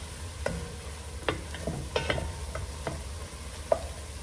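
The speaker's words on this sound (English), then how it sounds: "Keep stirring, y'all." Red beans cooking in a pot are stirred with a spoon, giving several soft scraping strokes over a faint simmering sizzle, fairly quiet and close with no talk.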